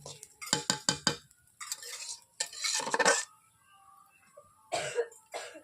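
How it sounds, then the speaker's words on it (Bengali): Rice for Basanti pulao being fried and stirred in a pan over low heat: bursts of close scraping and clattering against the pan, a rapid run of knocks, then longer stirring sweeps separated by quiet gaps. "আপনারা দেখতেই পাচ্ছেন আমি 5-6 মিনিট এইভাবে চালটাকে ভেজেই নিয়েছি।"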